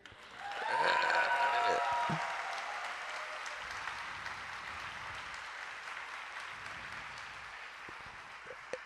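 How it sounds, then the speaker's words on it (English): An audience applauds for Macy at an evening performance, a loud burst of cheering and clapping that swells early and then settles into sustained, steady applause with a few whoops at the start. "clap again for Macy"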